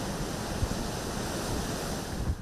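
Ocean surf and strong wind from Cyclone Biparjoy on the coast of Sindh, Pakistan roar as a dense, continuous wash of noise with heavy wind buffeting the microphone and a couple of low thumps.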